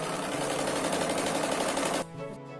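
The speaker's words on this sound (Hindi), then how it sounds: "तो ये देखिए इस तरह मैं इसे सिलाई कर लेती हूँ।" A sewing machine runs continuously, loud and close, while stitching a fabric strip for a hanging kitchen bag made from leftover cloth, then cuts off abruptly near the end leaving a softer mechanical rattle.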